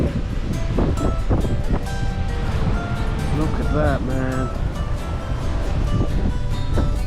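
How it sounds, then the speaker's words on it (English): Waves wash in steadily at the sea in windy weather, with buffeting wind over the microphone and constant surf noise, while someone talks over it. "It's gotten a little bit windy."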